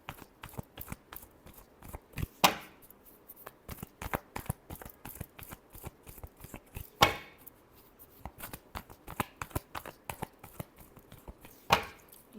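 Tarot cards being shuffled by hand in a repeated riffle and tap pattern, crisp papery flicks with a few sharper snaps, close and fairly quiet, no talking.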